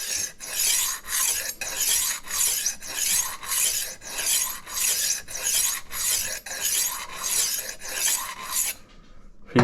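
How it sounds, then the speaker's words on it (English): A kitchen knife is drawn back and forth through a diamond wheel sharpener, giving a loud, close, steady gritty rasp in about a dozen even strokes that stop near the end. "So this is the diamond wheel."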